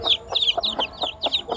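A mother hen clucks repeatedly among her chicks, a steady rhythm of close, clear clucks with high chick peeps threaded between them.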